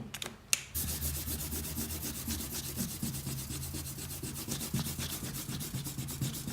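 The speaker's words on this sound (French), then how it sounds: "Je peux gommer les traits de construction." An eraser rubs out pencil lines on paper in a quick back-and-forth scrubbing rhythm. The sound is close and steady after a short tap at the start.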